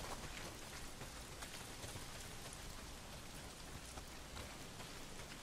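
Heavy rain pours steadily in the open-world video game Days Gone, a dense, even hiss of drops on surfaces with faint pattering detail, heard alone with no speech over it.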